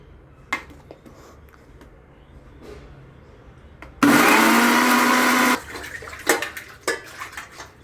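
An electric blender grinds golden-fried onion and garlic into a paste for a vegetable Kolhapuri pulao, a loud steady whir of about a second and a half after quiet kitchen clatter, then cutting off abruptly.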